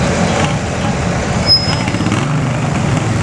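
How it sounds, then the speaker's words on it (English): Turbocharged engine in a light outlaw class pulling vehicle spooling up, a loud steady roar with rising whine and a brief sharp high tone midway, heard alone. "that turbocharger starting to spool up."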